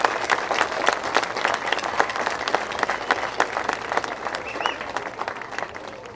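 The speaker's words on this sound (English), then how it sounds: "Please join me in giving a round of applause for all their hard work." A dense, steady round of audience applause at an outdoor sand sculpting awards ceremony on Revere Beach, many hands clapping together for about six seconds without a break.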